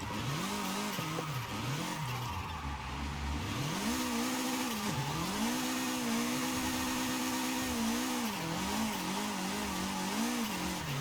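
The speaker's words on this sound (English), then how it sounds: "Yeah, the exhaust sounds so bad." Engine and exhaust of a Mazda MX-5 RF in the video game Forza Horizon 5, droning steadily as revs rise and fall in repeated swells, with tire squeal from sliding throughout, loud and continuous with no talk.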